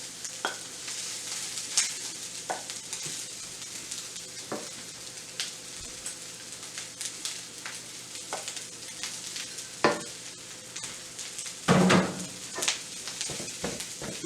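Rice stir-fried with shrimp in a pan, a continuous close sizzle broken by frequent scraping and clanking of a utensil against the pan, with a louder clatter near the end.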